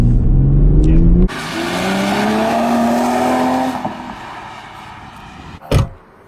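A car engine revs hard in second gear with wheelspin, its tone rising steadily, then cutting off with a sharp knock near the end.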